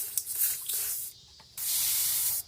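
A paint sprayer hisses in short bursts while coating a largemouth bass fishing lure, a few brief sprays followed by one longer steady blast up close.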